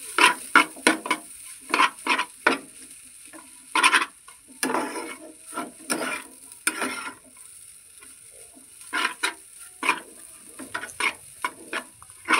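Spices frying in a pan for egg chowmein, with sharp, irregular spatula scrapes and clanks over a faint sizzle, close up and with no voices.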